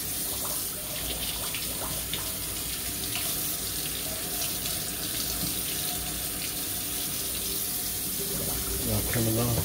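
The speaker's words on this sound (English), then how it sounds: "Get us some hot water going on here." Hot water runs steadily from a tap into a sink, a continuous splashing stream that holds at an even level throughout, close by with no talk over it.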